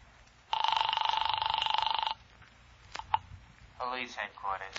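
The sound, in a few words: telephone ringing during a call, radio drama sound effect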